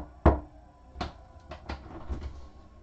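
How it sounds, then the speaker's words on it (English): Knocks on a door come as several separate, fairly close thumps spaced out over a few seconds, with the first rap the loudest. "So I'm gonna knock."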